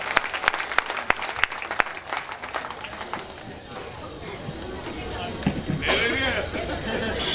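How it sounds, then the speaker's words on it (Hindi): Audience applause at a live Hindi comedy poetry show: scattered sharp claps at first, building into fuller crowd clapping with chatter and a voice talking over it. "तालियां बजाओ"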